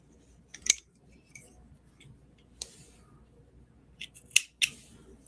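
Scissors snip crochet yarn in a few sharp, close clicks spread unevenly over several seconds, with quiet handling sounds between the cuts.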